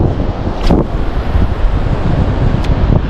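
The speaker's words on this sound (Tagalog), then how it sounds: "Malakas yung hangin." Strong wind buffets the microphone in loud, rumbling gusts, with a couple of brief sharper bursts near the start and end.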